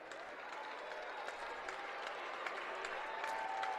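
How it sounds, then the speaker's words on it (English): Steady applause from Goodhue fans fills a basketball gym during a final timeout in a state quarterfinal game, a continuous even clatter of clapping with crowd murmur underneath and no single voice standing out. "As a round of applause from the Goodhue fans."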